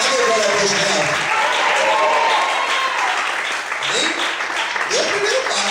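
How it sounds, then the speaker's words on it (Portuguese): A church congregation claps loudly and continuously during a sermon, the applause holding steady for several seconds while voices call out and talk beneath it. "Você pode aplaudir o Senhor bem forte."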